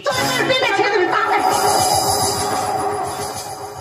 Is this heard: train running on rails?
yes